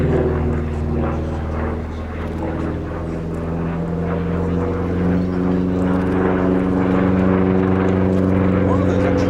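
A single-engine P-47 Thunderbolt, D model, flies at an airshow at Cosford, its heavy piston engine drone steady and loud throughout, with someone talking over it.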